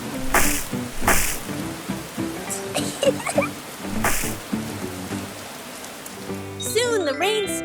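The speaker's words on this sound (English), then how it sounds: "The rain fell pitter-patter, forming big puddles all over the ground." Cartoon rain pattering down into puddles, a soft continuous patter with a few splashy bursts and a short musical jingle near the end.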